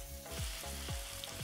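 Kazan kebab is stirred with salt and spices in a Dutch oven, giving a constant loud sizzle broken by several rhythmic scraping strokes, with no voices.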